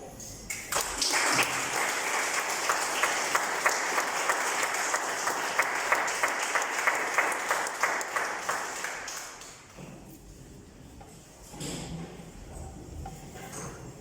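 Audience at an academic honors ceremony gives a long round of applause, a dense, steady patter of many hands that stops abruptly after about nine seconds, leaving quieter room sounds and faint movement.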